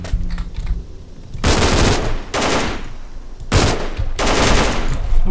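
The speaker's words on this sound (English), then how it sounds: "It feels like that guy's shooting at me" Gunfire in the video game S.T.A.L.K.E.R. Call of Pripyat: loud bursts of automatic fire in several long volleys, close and dense, with brief gaps between them and no talking.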